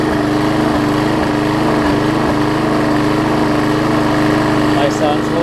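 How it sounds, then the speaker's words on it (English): A Murray small engine mounted on a Craftsman mower deck runs steadily, with a loud, even mower drone and a regular low chug throughout, alone in the foreground. "I'm just going to let it run just to make sure that it's good"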